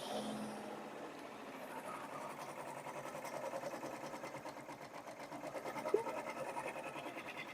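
A computerized embroidery machine stitches green thread into a chunky pumpkin mug rug, a steady fast mechanical whirring and needle patter running continuously at moderate level, with one brief click near the end.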